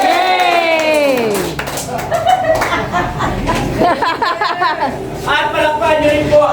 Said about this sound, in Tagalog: At palakpakan niyo rin po ang presentor na sa harapan